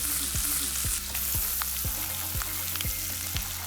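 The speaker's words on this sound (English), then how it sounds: "Keep cooking till the onion get nicely translucent." Onions fry with chili, whole garlic and ginger in a pan, a soft steady sizzle with a regular series of low knocks from stirring, close and fairly quiet.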